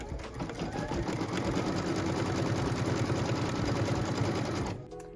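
A sewing machine runs steadily for about five seconds while stitching the seam line of a pieced quilt block. It hums loudly and continuously, then stops abruptly just before the end.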